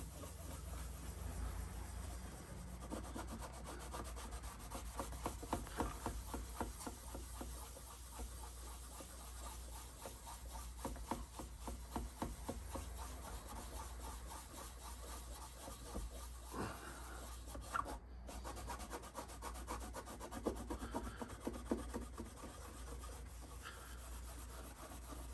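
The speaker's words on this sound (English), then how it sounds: "I've also steel wooled the ebony fretboard just to bring the natural ebony shine back to it." Steel wool scrubs the ebony fingerboard of an 1880s-1890s German violin in quiet, close, rhythmic back-and-forth rasping strokes that continue with small pauses, and no voices are heard.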